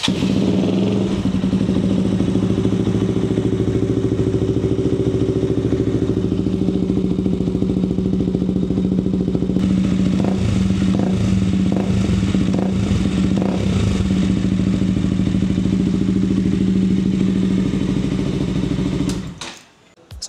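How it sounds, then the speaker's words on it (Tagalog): A Husqvarna Svartpilen motorcycle with a mid-pipe exhaust mod and stock header idles steadily during a sound check, giving a deep, bassy but fairly quiet rumble, close and continuous, with a brief rise in revs midway before cutting off at the end. "So meron siyang deep bassy sound pero hindi siya ganun kaingay actually."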